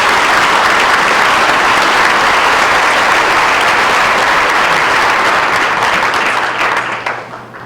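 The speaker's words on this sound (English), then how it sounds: "Let's give them both a round of applause." Loud, dense audience applause at a high school Veterans Day event, honoring two veterans; steady clapping fills the room before tapering off near the end.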